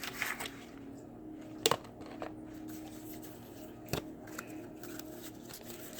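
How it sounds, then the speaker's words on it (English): A deck of tarot cards is shuffled by hand close up, with soft riffling and sliding and a few sharper snaps at irregular intervals, fairly quiet and with no talking. "as I shuffle."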